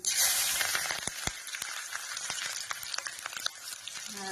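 Cumin, green chilli and garlic frying in mustard oil give a steady close sizzle with scattered sharp crackles and pops throughout, with no voices.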